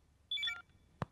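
A telephone rings in a Hindi comedy film, one short electronic trill lasting under half a second, followed by a sharp click, with quiet room tone around it.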